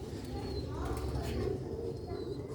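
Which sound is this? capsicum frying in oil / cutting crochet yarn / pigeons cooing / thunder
pigeons cooing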